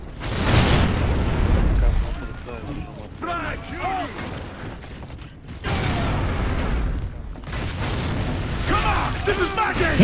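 Frag grenade blasts in Gears of War: Judgment team deathmatch on the Library map, broad booming bursts amid constant gunfire and mechanical clatter, with players shouting over the action.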